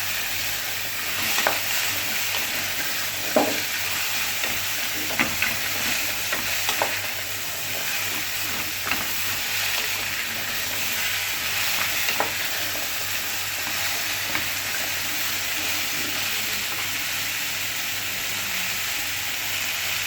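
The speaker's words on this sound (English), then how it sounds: "Stir this just for a while." Butternut squash and apple cook in a pot while being stirred, giving a soft continuous sizzle and hiss broken by occasional light scrapes and taps of the utensil, quiet and close.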